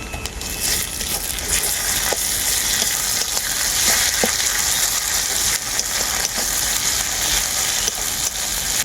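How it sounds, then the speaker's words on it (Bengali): Ground black pepper and cumin paste frying with onion in a pan for a snakehead fish curry, a loud, dense, continuous sizzle with small scraping ticks of stirring throughout, no voices. "জিরে আর গোলমরিচটাকে খুব ভালো করে ভেজে নিয়েছি"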